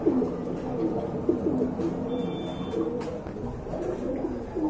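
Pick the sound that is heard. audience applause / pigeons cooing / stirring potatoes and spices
pigeons cooing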